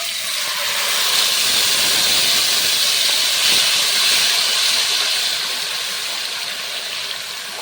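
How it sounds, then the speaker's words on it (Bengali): Cashew-raisin paste hits hot mustard oil in a kadai already tempered with bay leaves and whole garam masala, for a hilsa korma. A loud, steady sizzle hisses without a break throughout, with no voices. "কড়াইতে সর্ষের তেল দিয়েছি তেলটা গরম হয়ে গেছে প্রথমে আমি কয়েকটা তেজপাতা গোটা গরম মশলা ফোড়ন দিয়েছি আর এখন দেব কাজু কিশমিশের পেস্ট"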